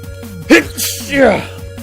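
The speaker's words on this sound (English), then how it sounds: "Oh god, I gotta sneeze." A single loud sneeze from a man gaming at a microphone, a sharp intake then an explosive burst, with an electrical hum and a faint game sound running underneath.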